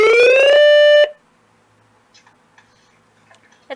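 A loud, piercing weather radio alert tone rises briefly in pitch and then holds for about a second before stopping, followed by near silence with faint clicks.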